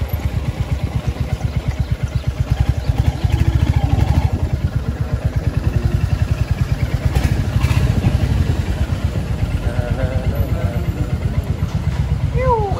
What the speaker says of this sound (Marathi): ही आपली बाईक आहे बरं का